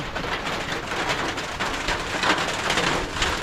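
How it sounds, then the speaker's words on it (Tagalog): Heavy rain pours down steadily, a dense even wash of sound close by with no pauses and no voices. "Sumilang na kami dito kasi lumakas yung ulan."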